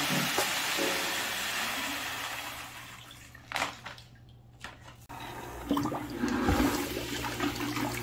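Dry nutrients being stirred into warm RO water in a stock tank, a continuous rushing, swirling wash of water with a brief lull partway through before the churning picks back up, close and fairly steady.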